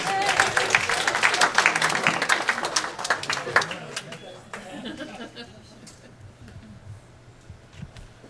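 Audience applause at a staff meeting after a budget review: a burst of many hands clapping that swells briefly and then thins and fades out over several seconds, with some chatter and laughter mixed in.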